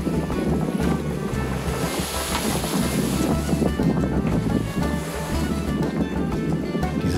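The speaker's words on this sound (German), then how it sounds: "Rollte doch eine brechende Welle bei 20 Meter Wassertiefe auf mich zu." A breaking wave rolls in, raised by a large-displacement ship passing in a canal with about 20 m of water depth; a loud, steady rushing surge of water with wind buffeting the microphone throughout, no voices.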